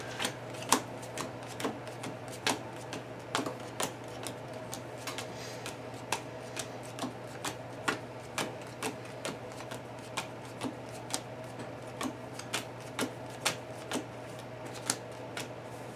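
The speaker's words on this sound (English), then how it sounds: "so basically we just shuffle the encounter deck" A deck of game cards is shuffled in a Lord of the Rings card game session, giving a steady run of soft, quick riffling clicks that repeat at a fairly even rhythm for the whole stretch, close by with no talking.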